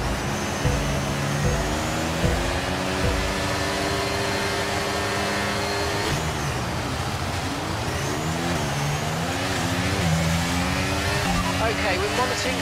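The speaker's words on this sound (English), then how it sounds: "Formation lap gets underway, and every driver will be looking to settle in for the race ahead" Race car engines drone and rise in pitch during the formation lap of an F1 racing video game, several overlapping revving tones sweeping up and down under continuous commentary.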